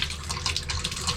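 Red, discoloured water gushes hard from leaky household plumbing, a loud close spraying rush with fluttering surges over a low rumble.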